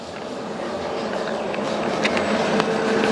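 A train rolls along a nearby rail line, a steady broad rumble that swells slightly, with faint clicks and rattles mixed into the outdoor noise and no voices.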